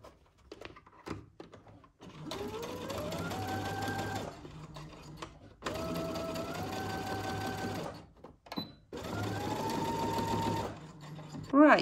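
A home sewing machine stitches a Simplicity 1802 Cynthia Rowley dress pattern in three long, steady whirring runs that speed up and rise in pitch, separated by short pauses filled with small clicks and handling noises.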